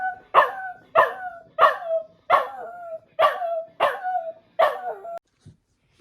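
A dog barks seven times in a steady, evenly spaced series, each bark loud, close and sharp with a short tail, followed by quiet.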